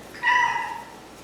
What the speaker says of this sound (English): He's such a sweet kitty.